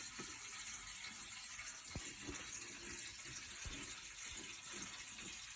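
Tap water runs into a bucket during a fish tank water change, a steady close hiss and splash with a few small drips or knocks.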